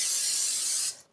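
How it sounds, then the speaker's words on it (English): Cooking spray hisses steadily onto a baking pan for banana bread, a close, loud continuous spray that cuts off near the end, leaving a brief quiet tail and a small click. "So now I'm just going to spray"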